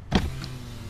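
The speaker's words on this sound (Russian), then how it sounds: "Пошел стекло." Power window on a Lexus GX 470 starting with a short motor whine, followed by a steady, fairly close hum as the glass travels, with no voices.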